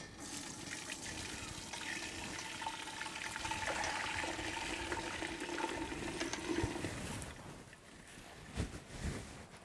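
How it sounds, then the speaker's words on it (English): Chicken and vegetable stock pours steadily into a strainer, a continuous wet splashing rush lasting several seconds that tapers off toward the end. "pour our stock through the strainer"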